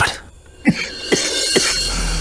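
Three short, sharp coughs break out at even intervals from one nearby person, with a quiet pause and no talk between them.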